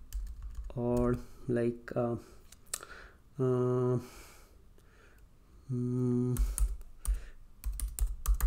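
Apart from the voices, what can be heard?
typing Python code on a computer keyboard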